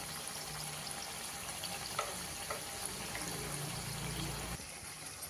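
Rajma kebab tikkis fry in a pan with a steady, soft sizzle and crackle, joined by occasional light clinks as they are turned; no voices.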